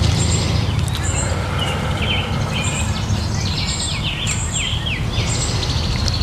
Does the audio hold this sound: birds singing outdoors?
yes